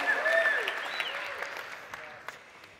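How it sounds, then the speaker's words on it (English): A conference audience applauds, the clapping loud at first and then thinning and fading over a couple of seconds, with a few voices cheering over it. "All right, come on, round of applause."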